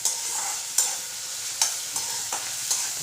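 Chopped onions sautéing in a pan for kanda poha: a soft continuous sizzle with a few sharp scraping stirs of a spoon at irregular intervals, close and fairly quiet, with no voices.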